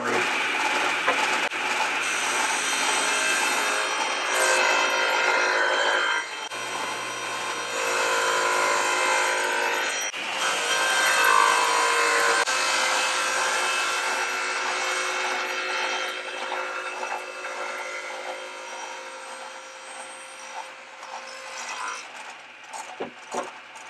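A table saw rips MDF into 3-inch baseboard strips, a steady whining, grinding drone that runs continuously for about twenty seconds with slight dips as the feed changes, close and fairly loud, no voices.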